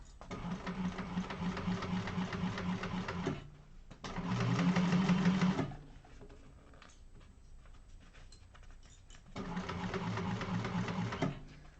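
A sewing machine stitches layers of a Zynah bag held with tape and clips, running in three long steady bursts of rapid mechanical whirring and ticking separated by pauses, close and fairly quiet.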